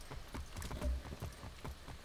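Horse hooves clip-clop in a steady, close rhythm as a horse is ridden in the game Far Cry 6, with low rumbling game ambience underneath.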